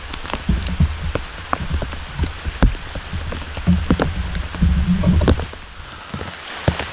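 Rain falls outdoors in the woods, pattering steadily with frequent sharper drops tapping close by on a surface, irregular and fairly loud throughout.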